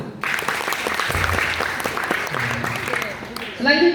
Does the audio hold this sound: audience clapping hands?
yes